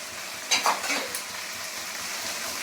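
Garlic frying in oil in a pan for a spicy soybean and potato curry, a soft steady sizzle with a couple of brief utensil scrapes and clinks as it is stirred.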